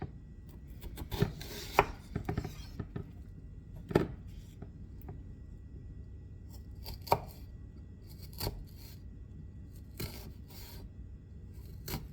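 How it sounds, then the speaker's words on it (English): Knife chopping through an onion on a cutting board, with a burst of quick close chops early on, then scattered single cuts and scraping at irregular intervals. "They want this onion chopped."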